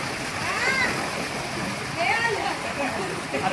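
Water splashes in an outdoor swimming pool at a family picnic in Lonavla, with a few light splashes under chatter and faint voices of people playing in the water.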